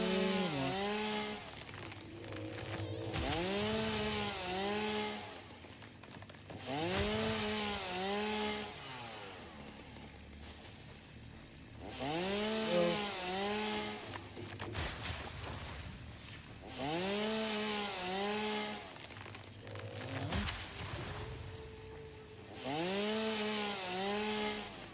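A chainsaw cutting trees and bushes in a video game, revving in repeated bursts of a few seconds each with rising and falling whine, separated by short lulls, loud and with no talking.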